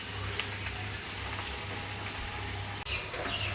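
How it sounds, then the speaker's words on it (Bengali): Jute leaves hit hot oil with onions in a pan and set off a steady, fairly quiet sizzle and crackle, with a brief break near the end and no voices. "তো এখন পাট শাক দিয়ে দিই"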